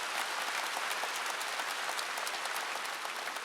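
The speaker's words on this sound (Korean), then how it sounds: "할머니들 할아버지들 남녀노소 박수 좀 치라고요" A church congregation at a revival meeting in Gunsan claps together in a sustained, even burst, steady and full without talk over it.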